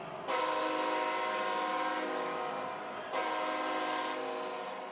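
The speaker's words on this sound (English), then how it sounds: "Train's coming through." A train horn sounds in a football stadium during an AAF game between the Memphis Express and the Atlanta Legends, with two long, loud, sustained blasts.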